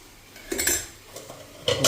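A lid goes onto a pan of Kerala-style fish curry with a few close metallic clanks and a rattle, separated by quiet gaps and ending in a louder clatter.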